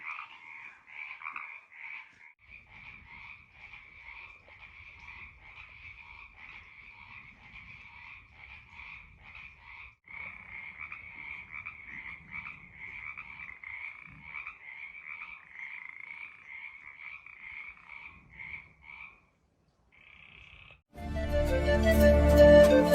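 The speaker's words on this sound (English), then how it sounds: "We're being serenaded by many frogs tonight." A chorus of many frogs croaks steadily at night at a desert camp along the Pacific Crest Trail, a dense pulsing trill that runs nonstop before breaking off into a loud burst of noise at the end.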